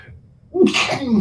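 A single sharp sneeze bursts out close by after a quiet moment, loud and abrupt, set in a casual morning talk-show studio.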